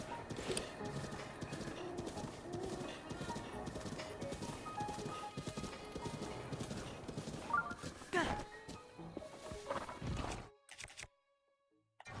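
Horse hooves clip-clop steadily at close range in a Zelda game, a continuous trotting rhythm with game music and ambience underneath, slowing and stopping near the end before brief silence.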